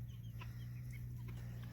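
Older chickens clucking softly outdoors among weeds, a few scattered short clucks over a steady low background hum, fairly faint and close.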